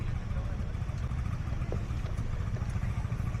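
A motorcycle engine idling nearby, a steady low rumble that holds for a few seconds, with faint voices in the background.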